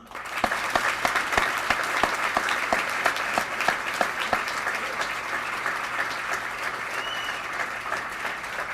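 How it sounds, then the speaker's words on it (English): Warm applause from an audience for a coach at a speaking event, steady dense clapping filling the whole stretch, loud and continuous with a slight fade toward the end. "I would like all of us to give a warm round of applause to Coach Brown."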